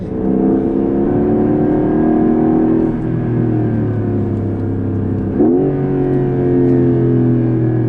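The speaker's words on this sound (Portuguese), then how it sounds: "Aqui eu já estou operando o carro no Sport Plus também, certo? Modo manual, tem um motor com torque pra caramba." A Porsche 911 Carrera GTS hybrid (992.2) in Sport Plus mode with manual shifting accelerates, its engine note rising steadily through a gear, then dipping with a shift and climbing again, loud and close with no talking.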